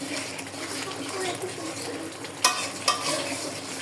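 Spices being stirred and fried in a pan for a chicken roast, a steady broadband sizzle with a couple of sharp utensil scrapes near the end, close and continuous.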